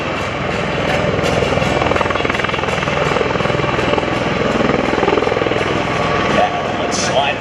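MV-22 Osprey tiltrotor aircraft at an airshow demonstration, a loud steady rotor and engine roar sustained throughout as it slides low along the runway, close and dominant.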